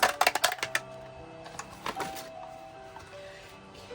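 A 3.5-inch circle punch cuts paper circles, producing a quick cluster of sharp, close clacks at first, then a few scattered softer clicks and handling sounds, with no voices.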